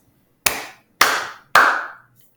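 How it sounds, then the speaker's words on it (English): A class claps in unison three times for students who finished many math lessons at a morning meeting: three loud, sharp, evenly spaced claps with short decays, then silence. "Everybody give them 3 claps"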